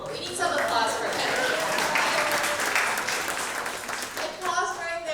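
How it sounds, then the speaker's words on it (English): Audience applause at an education summit as the final speaker is welcomed, a dense wash of clapping sustained for about five seconds with a voice rising briefly over it near the end. "we need some applause for him"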